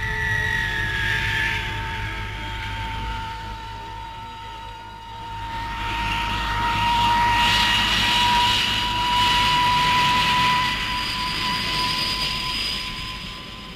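Jet fighter with a Hispano Nene turbojet flying past, a loud sustained whining roar that swells and fades over a broad rushing hiss, with no talk.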